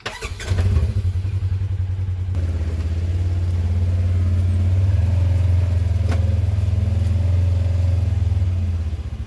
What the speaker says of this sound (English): Probably going to have to put it in four-wheel drive.